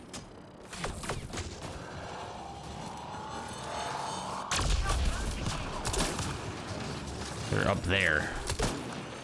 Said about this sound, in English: Oh, somebody's shooting at me from behind.